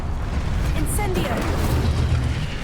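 The Incendio fire spell cast in Hogwarts Legacy erupts as a dense, loud roaring whoosh with a bright burst near the start, set against continuous game ambience and a voice.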